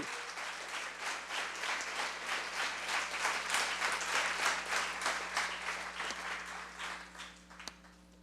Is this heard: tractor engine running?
no